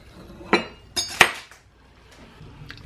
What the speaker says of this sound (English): I'm going to give this a nice cut into.